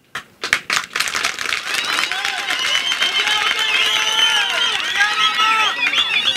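A crowd of Ifumbo residents at a public meeting with a government minister bursts into loud, sustained clapping after a short lead-in, with voices calling and cheering over the applause.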